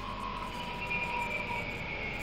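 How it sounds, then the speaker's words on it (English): A steady electric whine from a 2011 Toyota Prius hybrid's motor during regenerative braking, rising gradually in pitch over a low hum, continuous and fairly faint, with no talking. "This is the sound of the motor powering the regenerative brake."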